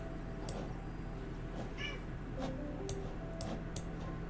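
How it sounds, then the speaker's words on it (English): A cat on a windowsill gives a few short, faint meows, with soft ticking and quiet background noise around them. "There's a cat on my windowsill making noises."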